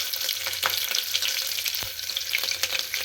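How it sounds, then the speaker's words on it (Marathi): Mustard seeds, cumin and small green chilies crackle and sizzle in hot oil, a dense close spattering with quick popping bursts throughout and no talking. "छान आपली मोहरी तडतडल्यावर जिरं घालायचं आता मिरची घालायची"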